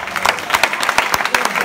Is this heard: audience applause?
yes